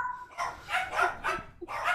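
Dogs barking in a home during a podcast recording: four or five loud, sharp bark bursts in quick succession, close by, with no voices over them.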